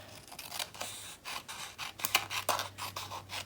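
A series of crisp scissor snips cutting paper for a handmade autumn mini album, irregular close-up cuts spaced through the moment with soft paper rustles between them.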